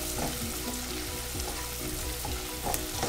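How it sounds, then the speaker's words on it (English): Finely chopped ginger and garlic sauté in hot oil for a tadka for sarson ka saag, giving a steady close sizzle with soft spatula scrapes and stirring taps throughout. "So let it saute for a minute until you get nice aroma"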